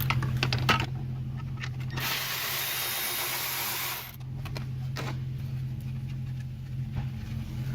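A 10mm bracket screw holding the intake comes out of an engine being checked for a multiple-cylinder misfire, with close mechanical clicks and a loud two-second burst of tool whirring in the middle.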